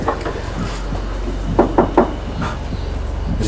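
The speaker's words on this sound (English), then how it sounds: "There's that knocking again." Knocking in a supposedly haunted room during a ghost-hunt parody, a few short hollow raps in a quick cluster at mid-clip, moderately loud over a low background hum.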